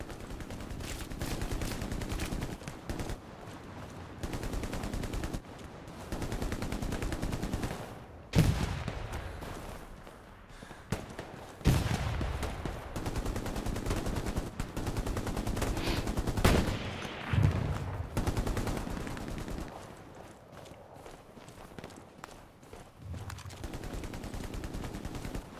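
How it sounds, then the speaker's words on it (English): Suppressive gunfire in Hell Let Loose, a World War II shooter: sustained bursts of automatic rifle and machine-gun fire at moderate distance, rattling in uneven volleys with short pauses across the whole stretch, plus scattered louder single shots. "I'm gonna put some suppressive fire on this bit"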